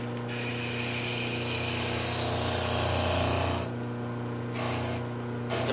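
Disc sander runs with a steady broadband whine while a rubbery abrasive cleaning stick is pressed against the spinning disc, adding a loud scraping rub, then briefly lifted away twice near the end.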